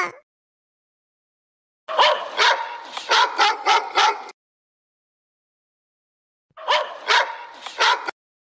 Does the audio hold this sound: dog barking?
yes